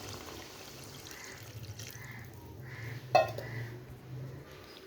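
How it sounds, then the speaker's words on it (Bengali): Cold water is poured into a pan of koi fish curry, giving a soft continuous liquid wash with a brief louder splash partway through, set against low kitchen hum and no speech. "কষানো হয়ে গেছে, আমি জল দিয়ে দেব।"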